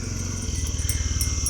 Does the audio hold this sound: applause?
no